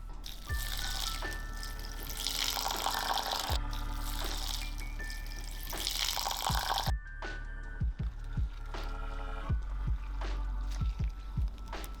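Water is poured onto rice and cinnamon for horchata, a close, faint trickle and splash followed by a few small drips and clinks after the pour stops.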